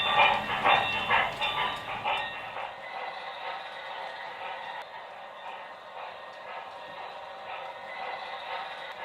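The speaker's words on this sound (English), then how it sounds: "Train 124, the Eastbound Grand Canyon, arrives in Raton, powered by an ABA set of Elko PAs in the splendid Santa Fe war bonnet scheme" An HO scale model train led by an ABA set of Elko PA locomotives arrives at a layout station, a soft, steady electric motor whir and hum that starts with a little rumble and settles into a quieter drone.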